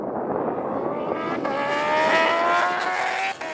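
Bugatti Chiron hypercar and Kawasaki H2R superbike in a drag race, engines roaring loud and steady with rising whine as the car slides sideways off the line, a continuous close, dense blast.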